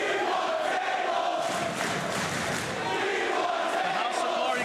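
A House of Glory wrestling crowd roars and chants continuously at moderate distance, a dense wash of voices swelling slightly near the end.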